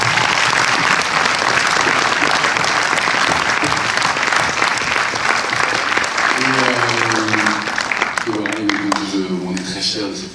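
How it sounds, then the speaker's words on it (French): Sustained audience applause at a film screening in a UGC cinema, a dense continuous patter of many hands filling the room, with a voice and some tonal sound emerging toward the end. "j'aimerais qu'on les applaudisse"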